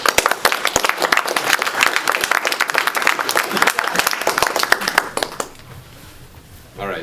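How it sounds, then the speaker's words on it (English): An audience at a poetry reading in a hotel ballroom claps for a poet, with close, crisp individual hand claps in a lively burst that fades out toward the end, leaving quiet room noise. "So give him some applause."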